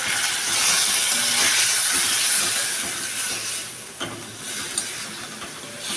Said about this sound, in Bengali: বাটা করে রাখা পেঁয়াজ তাকে ভাজতে দিলাম